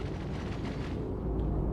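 Point defense cannons fire in the space game Star Citizen as a dense rumbling wash of rapid booming bursts, loud and continuous with no voices.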